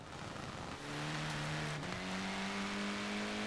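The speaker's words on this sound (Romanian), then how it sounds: "Evacuarea sună bine la mașina asta." An Audi Quattro's engine and exhaust in a video game, a steady droning rev that climbs in pitch partway through and then holds a sustained higher note, loud and continuous with no talking.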